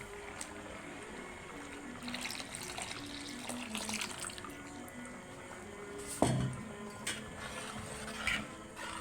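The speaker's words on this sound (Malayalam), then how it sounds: "അങ്ങനെ നമ്മൾ പശുവും പാൽ ഒഴിച്ചു കൊടുക്കാൻ പോവുകയാണ്." Milk is poured into a pot of roasted vermicelli payasam, making a steady, soft liquid rush with brief splashy bursts and no voices.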